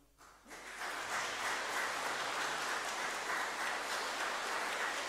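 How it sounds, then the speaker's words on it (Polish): An audience claps at a religious song festival. The applause swells quickly from near silence into sustained, dense clapping that holds loud and steady. "Jeszcze raz ogromne brawa."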